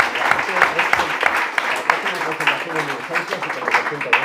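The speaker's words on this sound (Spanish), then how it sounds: "Yo creo que hay que dedicarle un aplauso a Rafa." An audience claps together in applause for Rafa, a dense, lively patter of hands filling the room at moderate level, with voices mixed in.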